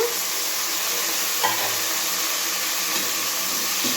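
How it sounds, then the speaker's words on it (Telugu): Tomatoes frying with onions and green chillies for gongura chicken biryani give off a steady, loud, hissing sizzle that carries on without a break, with faint stirring clinks near the middle and end. "టమాటా అయితే వేసేసినాను ఇంకా టమాటాలు కొద్దిసేపు వేగినాయండి"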